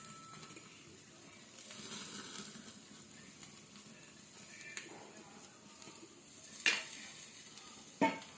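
Chicken sizzling in oil in a pan, a low steady fry close by, with a few sharp clinks of a utensil against the pan near the end.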